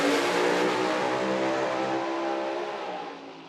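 A drag racing car at a Friday night street nationals event accelerates hard down the track with its tire spinning, a loud, sustained engine roar that fades slightly near the end.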